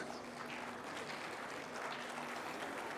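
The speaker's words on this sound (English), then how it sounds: "May we please have a round of applause." Conference audience applause, a dense even patter of many hands clapping at moderate distance, steady for the whole stretch with no voices.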